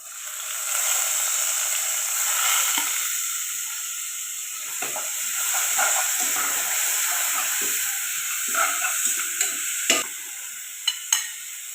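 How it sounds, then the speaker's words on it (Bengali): Onion hits hot oil with browned garlic in a pan, setting off a bright, steady hiss and sizzle that fills the clip, with a few light stirring clicks and scrapes near the end. "রসুন লাল হয়ে গেছে এখন আমি পিঁয়াজ দিব"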